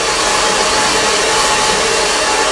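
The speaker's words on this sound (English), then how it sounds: "let's test the hair dryer" A hair dryer blowing continuously at close range, a loud steady rushing whir with no pauses or voices.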